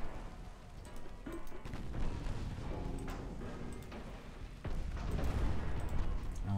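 Battleship guns firing in the naval game Ultimate Admiral Dreadnoughts, a dense, continuous rumble of distant cannon blasts and booms, fairly faint, with no talking.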